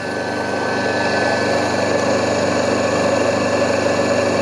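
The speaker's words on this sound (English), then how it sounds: "Since this is the asynchronous motor, its speed should to drop." An asynchronous AC induction motor runs under load on a test bench, giving a steady mid-pitched electric drone with a constant tonal hum, close and continuous with no pauses.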